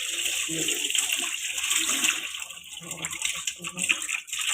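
Boiled water is poured off through a strainer from a pot in a home kitchen, a steady rushing splash that swells and dips for several seconds, with no speech.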